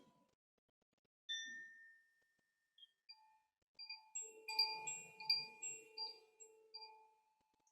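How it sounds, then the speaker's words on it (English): Chimes ring softly during a calm guided breathing exercise, a few isolated clear metallic tones followed by a cluster of overlapping bell-like notes that ring and fade in near silence. "as I add this bit of chime."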